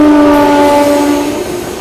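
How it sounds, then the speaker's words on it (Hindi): Pune Supaul Express passing alongside the Patliputra Superfast Express, a loud sustained horn with steady harmonic tones over rail rumble, fading slightly toward the end. "अपनी पाटलिपुत्र सुपरफास्ट एक्सप्रेस को यहाँ पर पुणे सुपौल एक्सप्रेस ओवरटेक कर रही है।"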